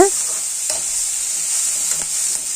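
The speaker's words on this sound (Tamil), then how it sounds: "இப்போ நம்ம போட்டிருக்க மசாலாவோட வெங்காயமும் சேர்த்து நல்லா வணக்கி எடுத்துக்கலாங்க" Sliced onions and masala cooking in a pan for a crab curry, a steady soft sizzle with a few faint stirring scrapes spread across the moment.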